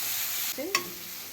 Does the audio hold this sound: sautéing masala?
yes